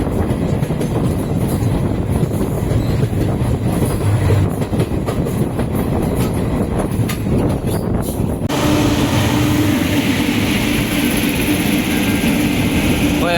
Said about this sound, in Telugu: కోయంబత్తూరు తిరుపతి ఇంటర్సిటీ ఎక్స్ప్రెస్ అండి. తిరుపతి నుంచి కోయంబత్తూరుకి వెళ్తుంది ఇప్పుడు.